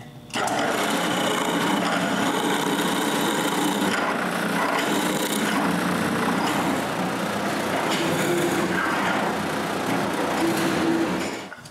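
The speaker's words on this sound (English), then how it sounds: "I finish the joints by cutting all the shoulders of the tenons" A saw rasps steadily through the shoulders of wooden tenons on frame joints, one continuous close cutting run lasting several seconds with a faint pause before the end.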